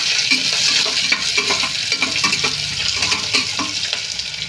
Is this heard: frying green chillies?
yes